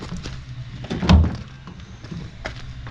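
The door of a Toyota HiAce van with a flat battery gets a manual opening: one solid thunk of the latch and panel sits amid faint clicks and small handling knocks, close and alone.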